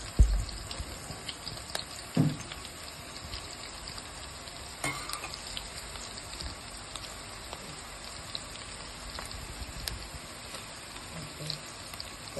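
Mutton head curry sizzling and frying in a pan after ginger paste is added, a steady crackling hiss with a few louder pops near the start, heard alone without talk.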